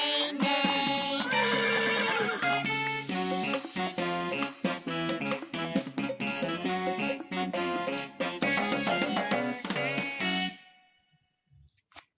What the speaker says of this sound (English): The horse says neigh neigh neigh neigh neigh neigh.